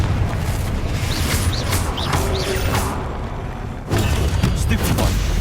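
Explosive Confringo spell blasts in the Hogwarts Legacy game, dense rumbling booms and crashes filling the whole clip, with a sharp renewed burst near the end, under shouted speech.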